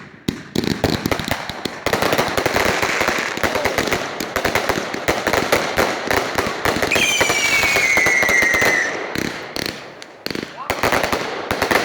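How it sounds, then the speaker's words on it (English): Fireworks at a Christmas party burst in a dense, continuous crackling barrage throughout, with whistling rockets rising partway through and people talking faintly underneath. "After Christmas party fireworks."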